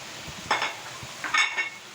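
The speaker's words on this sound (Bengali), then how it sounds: "এভাবে আমি সবগুলি মিশিয়ে 15 মিনিট রান্না করব" Chopped papaya, carrot and potato frying in a pan for a chicken vegetable bread samosa filling, with two short bursts of stirring and sizzling separated by a quieter pause.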